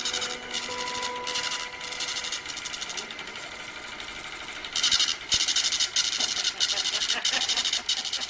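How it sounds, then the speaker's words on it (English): A Diebold voting machine prints a vote tally tape, a rapid buzzing, rattling print-head chatter in repeated bursts that grow louder toward the end. "will now cause the voting machine to print out a tape reading the number of votes that it had just read"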